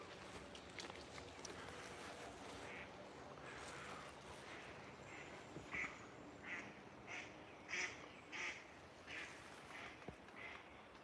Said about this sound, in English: We have some ducks.